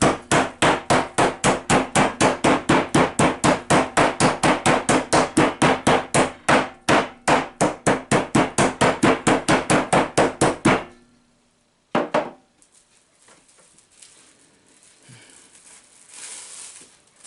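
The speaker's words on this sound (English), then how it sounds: "Take a hammer to it." A hammer pounds slices of beef laid on clear plastic wrap to make jerky from a beef roast, striking in a fast, steady run of loud close blows for about ten seconds before stopping.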